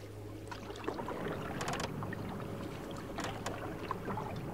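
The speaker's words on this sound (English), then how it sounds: "Eventually, after a short paddle," Canoe on water during a spring backcountry trip, with soft ongoing water and paddle swishes and a few brighter splashy strokes over steady outdoor ambience, fairly close and gentle.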